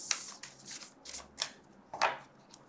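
Oracle cards being shuffled by hand: soft papery riffles and flicks in several short bursts, close and fairly quiet, with no talking.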